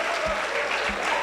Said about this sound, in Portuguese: Uma salva de palmas para o Ti.